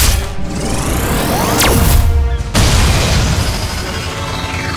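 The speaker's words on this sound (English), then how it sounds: "Regu, Super Beam Cannon!" A loud cartoonish energy blast from a dinosaur cartoon's beam cannon, with a rising whoosh, booming and crackling over a dense, noisy action soundtrack.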